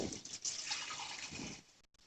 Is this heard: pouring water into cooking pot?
yes